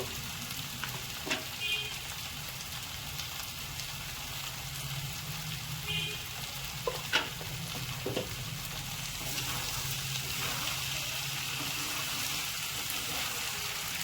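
Boiled chickpeas with salt and turmeric stir-fried in masala cooked with mutton fat for ghugni, giving a steady close sizzle with occasional scrapes and clicks of the spoon, no talking.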